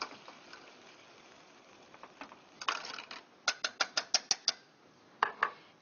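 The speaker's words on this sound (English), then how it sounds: "I find I get an even, easy crush by just gently pushing down 2 or 3 times with my potato masher" A potato masher pressing down into canned tomatoes in a pot, a run of sharp, evenly spaced metallic clacks and squelches, close and fairly quiet, with softer taps before it.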